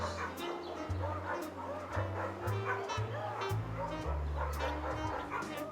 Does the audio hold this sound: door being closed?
no